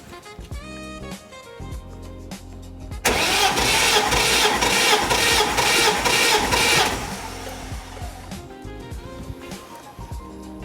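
A BMW E30 engine cranks over with its spark plugs removed for a compression test: a loud, even starter churn lasting about four seconds, with quieter mechanical running before and after.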